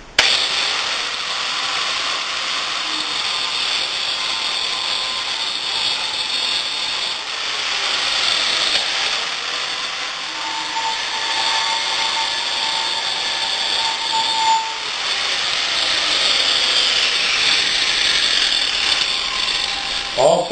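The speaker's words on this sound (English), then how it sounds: "Also, while I have the grinder out, I figured I'd round off these ends" An angle grinder rounds off the sharp ends of cut steel pieces for a memorial triangle, giving a steady, loud, continuous whine and hiss that runs unbroken throughout, with slight surges as the disc bears down on the metal.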